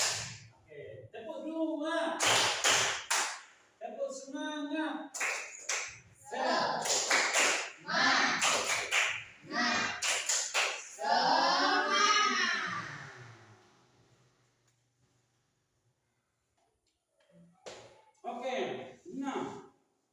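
Children join a rhythmic clapping game in a religious lesson, with sharp, sporadic hand claps mixed among loud young voices calling out and chanting, then a pause before a few more voices return.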